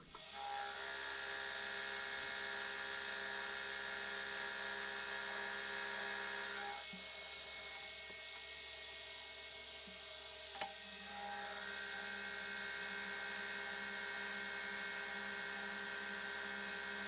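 A Sheridan metal lathe takes a facing cut across a leadscrew part, a steady high whine with tonal bands that dips quieter for a few seconds partway through, one sharp tick, then resumes at full level.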